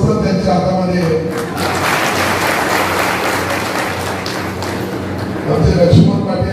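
Loud, sustained applause from an audience at a political speech event by a guardian minister, steady clapping throughout with a brief swell near the end and voices mixed in.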